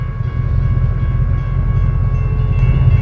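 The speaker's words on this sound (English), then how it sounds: "As soon as this train goes through," A train rumbles past nearby, a heavy steady low roar with tonal hum lines, continuous and loud throughout with no voices.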